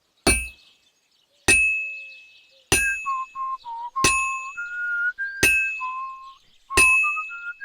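Blacksmith's hammer striking metal at a forge in Kingdom Come: Deliverance II, six loud ringing clangs at a steady pace, each fading out, with a character whistling a wavering tune between the later blows.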